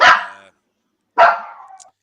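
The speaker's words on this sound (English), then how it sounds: "the dogs are barking." Dogs bark twice, loud and close, with a clear pause between the two sharp barks and no one talking.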